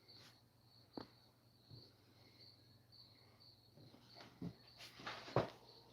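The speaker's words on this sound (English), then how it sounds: "I hear crickets." Crickets chirp outdoors in a faint, steady high-pitched trill, with a few soft knocks and rustles rising near the end of the quiet scene.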